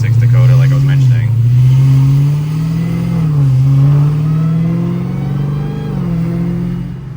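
A Dodge Challenger Hellcat engine rumbles and revs at low-to-mid pitch, its pitch swelling and dipping as the throttle is worked on a drive. The sound is close and loud, with a faint voice in the background.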